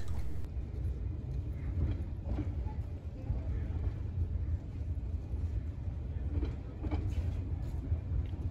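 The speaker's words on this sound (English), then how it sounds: "As 473 idled at the depot, I took the time to photograph the locomotive" K-28 narrow gauge steam locomotive number 473 idling at the depot, a steady low rumble and hiss with faint clanks, heard continuously at moderate distance.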